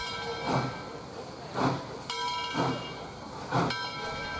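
A doubleheader train rolls into a town platform in Summerville with steady rumbling and hiss, marked by regular loud clunks about once a second as wheels pass rail joints.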